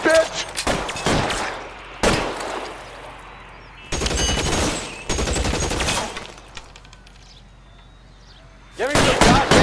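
Bursts of gunfire in the crime video game L.A. Noire, loud broadband volleys in several clusters with short gaps between them, mixed with shouted voices.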